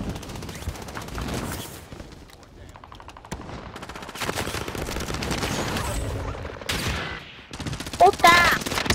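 Rapid automatic gunfire from a PPSh submachine gun in the shooter game Call of Duty: Warzone Pacific, with dense, repeated bursts that are loud and close, mixed with other game sounds and a voice talking at times.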